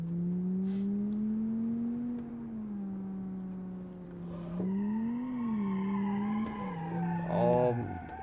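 A 90s family car built in Automation slides through a handbrake turn in BeamNG, with a steady engine drone rising and falling in pitch and then a loud, close tire squeal toward the end, all under a talking voice.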